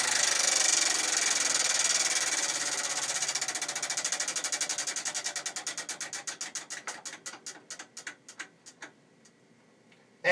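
A prize wheel spun for a ticket giveaway ratchets with rapid, dense clicking that gradually slows into distinct, widely spaced clacks before stopping, heard close with no talking.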